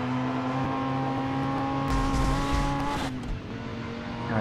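A McLaren F1 car's engine drones at steady revs, then briefly flares louder as it drives off with a short burst of tire noise, close and without talk.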